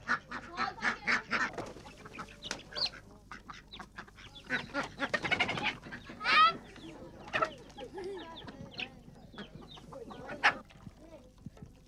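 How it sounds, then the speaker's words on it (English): Chickens clucking alongside quacking ducks on a farm by Dal Lake's floating gardens, a busy chorus of close, overlapping calls with no talk. "They also rear chicken, ducks and swans."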